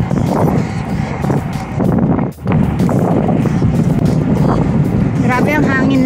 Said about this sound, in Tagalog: Grabe ang hangin lang. So windy, no?